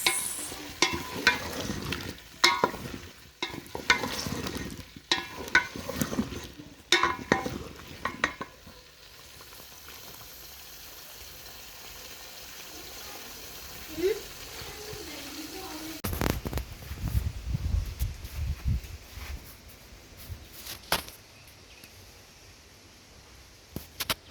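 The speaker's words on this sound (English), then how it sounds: "So we've added our Irish potato in our cooking oil" Irish potatoes sizzle in cooking oil in an African village kitchen, with stirring scrapes and clatter early on, then a quieter steady fry with occasional knocks; a voice talks intermittently.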